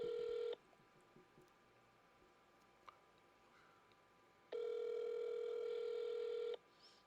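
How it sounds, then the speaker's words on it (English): Telephone keypad dialing tones from a call placed during a podcast, a steady loud tone at the start and another long tone later, with a quiet gap of faint ticks between them and no talking. "Let's see if Joey answered the phone"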